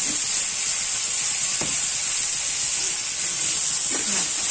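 Turmeric powder fries in a hot pan, giving a steady, loud hiss and sizzle with a couple of soft stirring scrapes, with no speech over it.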